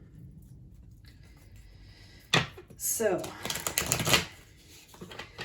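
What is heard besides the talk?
shuffling tarot cards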